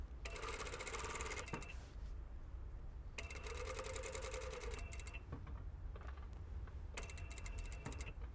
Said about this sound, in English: And then sewing the other side.